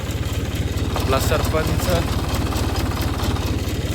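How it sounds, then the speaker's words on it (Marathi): A farm tractor's engine idles and chugs with a steady low pulsing throb, close by, while someone talks over it. "आज तर बघू ट्रॅक्टर आज कसं काम करतोय."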